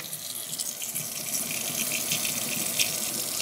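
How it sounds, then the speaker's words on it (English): Steady running and dripping water as a vacuum filter is wrung out, a close continuous splashing trickle with no talk. "Wring it out."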